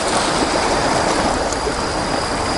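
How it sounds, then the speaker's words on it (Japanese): A steady, loud rush of ocean waves washing continuously onto a shore at night, like rolling surf, with no pauses and no voices. "波の音と虫の声だけで十分だよな"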